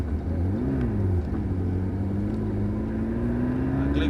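A McLaren MP4-12C on track at Dunsfold, its engine giving a steady low drone with the pitch falling and then slowly rising again as the car rolls off the throttle, heard from inside the cabin.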